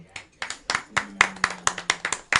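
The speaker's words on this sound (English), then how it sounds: "A round of applause." A talk show audience claps in a steady, evenly spaced rhythm of about a dozen sharp, close handclaps, loud and distinct.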